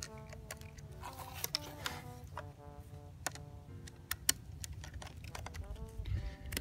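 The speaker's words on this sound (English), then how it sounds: "tighten up your screws." Tightening the handguard screws of a Desert Tech MDR rifle, heard as small metallic clicks and ticks from close by. Tonal background sound runs underneath and there is no clear talk.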